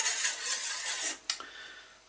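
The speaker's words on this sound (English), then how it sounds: "just make sure that it's given a stir, that everything is mixed together" A spoon clinks against a bowl while homemade lotion of cocoa butter and other natural ingredients is stirred, a soft scraping swirl that ends in two sharp metallic taps, close and quiet, with no talking.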